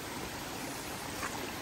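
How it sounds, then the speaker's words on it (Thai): Steady broadband rush of water streaming down a hillside channel near a rubber plantation, a continuous close wash with no talk over it. "เป็นน้ำตกลงมาเลยนะทุกคน"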